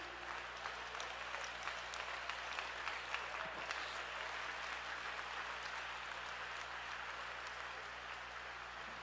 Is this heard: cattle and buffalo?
no